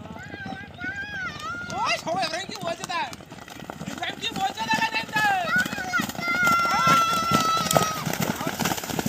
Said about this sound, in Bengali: ঘোড়া আসছে